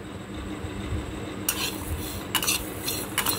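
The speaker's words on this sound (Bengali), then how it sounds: "এটা আমি শুকনো খোলায় ভেজে নেব" A quiet pan hum gives way to scraping and rattling as a utensil stirs garlic and green chillies dry-roasting in a hot pan, with a few sharp metallic scrapes nearby.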